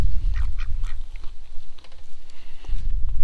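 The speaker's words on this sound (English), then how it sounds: "Ducks eating my dumplings" Ducks quacking while eating dumplings at a car camping spot at Tallgrass Prairie in Kansas, several short quacks scattered over low wind-like rumble, fairly close and loud.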